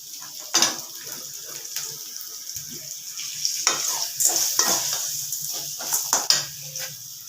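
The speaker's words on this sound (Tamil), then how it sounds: "அரைமுடி தேங்காய் நல்லா வதக்கணும்" Coconut, ginger, garlic and tamarind sautéing in a pan for Madurai-style ginger chutney, with a steady sizzle broken by repeated clinks and scrapes of a stirring spoon against the pan, close and moderately loud.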